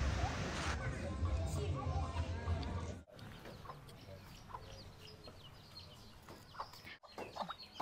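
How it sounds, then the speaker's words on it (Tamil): Chickens cluck repeatedly in a Ugandan village, their calls scattered and fairly close while people talk in the background. "கோழியெல்லாம் இருக்குது."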